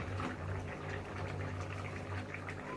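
Curry gravy bubbling in a pot, a soft steady boil heard faintly and continuously, with a low hum beneath and no talking.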